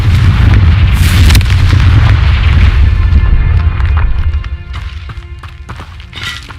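Confringo fire spell blasting in the Hogwarts Legacy video game, a loud deep boom with roaring, crackling rumble that fades over several seconds amid scattered game effects.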